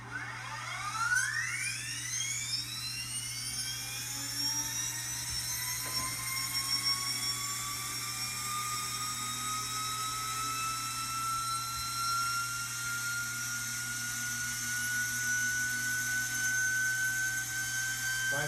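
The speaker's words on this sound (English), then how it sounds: "Learjet starter test, flywheel, approximately 50-pound flywheel." A Learjet starter motor fed 1,500 amps DC spins up an approximately 50-pound flywheel on a test bench, its steady whine rising continuously in pitch as it accelerates, loud and sustained with a constant low hum underneath.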